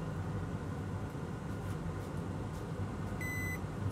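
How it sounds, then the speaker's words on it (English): A multimeter in continuity mode gives a single short, clear tone near the end of a faint, steady background hum. "Meter in continuity mode"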